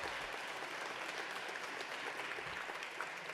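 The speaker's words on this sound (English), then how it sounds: "So give Jordan a round of applause." An awards-event audience applauding, a continuous wash of many hands clapping at moderate, even volume for a few seconds, with no voices over it.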